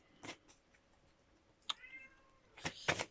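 A domestic cat meows several times, with a short plaintive call early, a brief tonal mew in the middle, and a cluster of louder meows at the end, fairly close in a quiet room.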